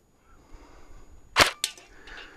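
A G&G L85 airsoft rifle fires 0.25 gram BBs at a target 50 feet away, giving two sharp, close snaps in quick succession over a quiet background.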